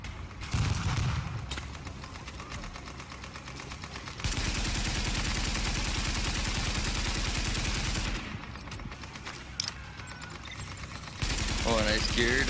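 Sustained automatic gunfire in The Division, long loud continuous bursts from nearby weapons with brief pauses between, a voice speaking briefly under the shooting.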